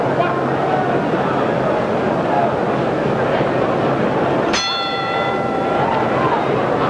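A boxing ring bell rings once to start a heavyweight fight, a single bright clang with a ringing tail, cutting through loud steady crowd noise in the arena.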